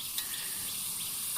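Onions sautéing in a pan until golden, a steady, close sizzling hiss with no pauses.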